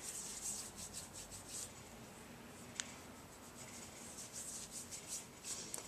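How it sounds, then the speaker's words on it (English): Foundation being rubbed into facial skin by hand, a soft continuous brushing and rubbing texture, faint and close, with no talking over it. "I like to, of course, rub it in"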